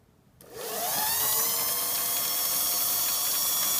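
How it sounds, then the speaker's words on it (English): A homemade wood lathe driven by a sewing machine motor spins up with a sudden whir, then holds a steady, loud high-pitched mechanical whine with tonal hum. "Let me get it hooked up here and running, and on a sewing machine motor"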